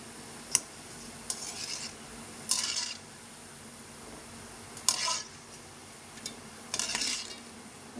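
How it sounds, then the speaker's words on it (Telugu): Gulab jamun frying in oil in a pan, turned now and then with a spoon, giving a soft, low sizzle broken by several short scraping and clinking stirs against the pan, close and quiet. "ఒక 10 నిమిషాలు మనం అలా అలా తిప్పుతా లోపల కూడా ఉడికేటట్టు చూసుకోవాలి"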